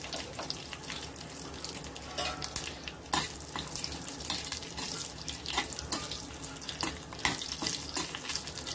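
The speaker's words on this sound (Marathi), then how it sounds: "आता ह्याच्यात छान आपली फोडणी तडतडली आहे" Red chilli pieces, curry leaves and asafoetida crackle in hot oil for a Marathi dal tempering, a busy wet sizzle with sharp pops scattered through, close and continuous, no voices.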